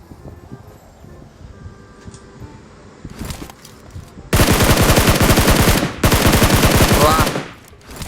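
Rapid automatic gunfire in PUBG rattles out in two long, loud bursts after a quieter stretch, each a dense stream of shots.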